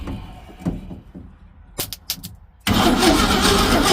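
A 1966 Ford Econoline engine cranks with a few sputtering attempts and brief kicks, then suddenly catches into a loud, rough running roar.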